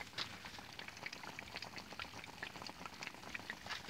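Meatloaf cooking in a pan over a blazing wood fire with no electricity, giving off a steady, faint crackling sizzle with dense small pops running throughout, heard alone.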